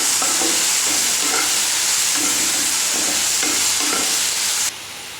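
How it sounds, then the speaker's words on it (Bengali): Kul (jujube) chutney frying in a pan gives a steady, close sizzle, with soft rhythmic scraping as it is stirred, and the sound drops off abruptly at the end. "তো এইবার আরেকবার ভালো করে নাড়িয়ে আমি একটু ঢাকা চাপা দিয়ে দেবো।"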